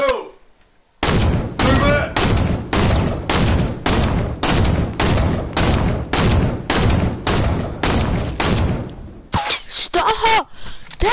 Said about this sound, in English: Dad, they're shooting at me!